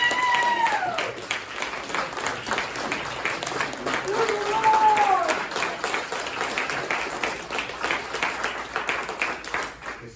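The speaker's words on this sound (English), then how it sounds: "Everybody give a big round of applause for this man." Applause at a business meeting: a sustained crowd of clapping, with a couple of rising whoops early on and talk and cheering mixed in throughout.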